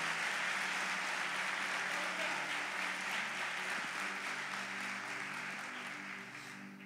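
Congregation at a church service applauding loudly for Jesus, a steady wash of many hands clapping that holds for several seconds and then slowly fades as a low organ or keyboard tone continues beneath.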